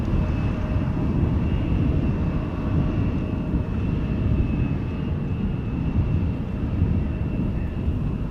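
An airliner arrives at Schiphol from Warsaw after a flight of about 1 hour 47 minutes, its steady broad engine roar holding loud and close throughout with a faint high whine above it.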